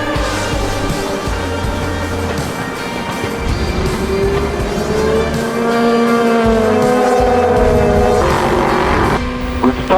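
Race cars roar at the start of a European Le Mans Series race at Le Castellet, a loud continuous engine howl with rising pitch sweeps as cars accelerate through the gears, with faint tyre noise near the end.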